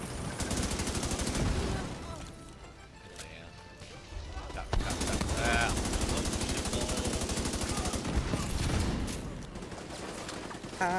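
Dense, continuous gunfire from The Division 2, with rapid automatic bursts and shots layered loudly throughout, under excited voices talking during a metro station expedition.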